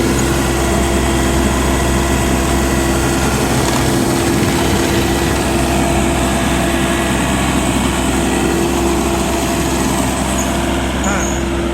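A tree-grinding machine working a thick, freshly cut tree on a New York City street gives a loud, continuous engine drone with a constant low hum and rough mechanical texture, and voices can be heard talking over it.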